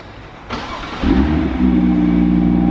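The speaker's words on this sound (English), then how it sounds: "so first start of the new car" A BMW car with an N55 engine starting for the first time: a starter whir, then the engine catches with a quick rev and settles into a steady, close idle.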